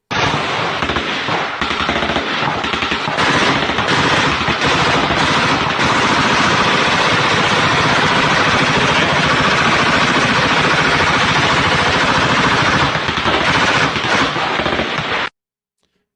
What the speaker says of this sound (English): Thai army laying down machine gun fire on the Cambodian forces on the other side of the tree line